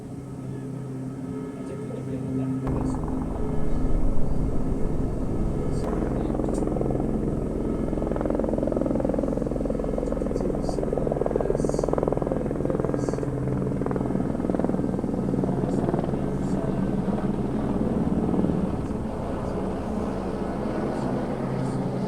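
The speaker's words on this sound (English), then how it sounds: "helicopter just flying around this metallic orb floating there" A helicopter flying around near a floating metallic orb, its rotor drone steady and fairly loud for over twenty seconds, rising slightly early on, with faint distant noises over it.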